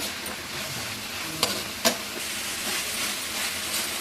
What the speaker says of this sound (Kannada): ಈಗ ನೋಡಿ ಶುಂಠಿ ಬೆಳ್ಳುಳ್ಳಿ ಪೇಸ್ಟ್ ಹಾಕ್ತಾ ಇದ್ದೀನಿ